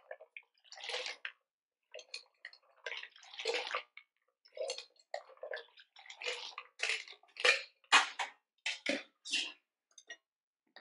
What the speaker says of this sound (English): you're going to transfer the liquid from this container to this container